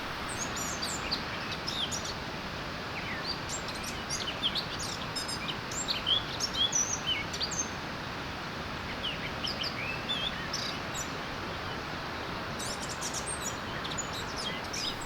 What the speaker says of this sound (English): A joyful bird singing completes the beautiful landscape.